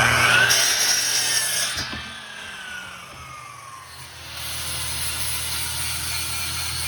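Rough-cut wood being sawn, a close scraping rasp with a rhythmic back-and-forth rubbing texture that fades and then gives way to a steadier low mechanical hum in the second half, with no talking.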